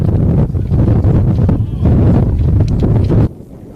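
Heavy wind buffets the microphone on a windy afternoon at a senior grand final rugby match in Box Hill, a loud, rumbling roar that drops away abruptly near the end.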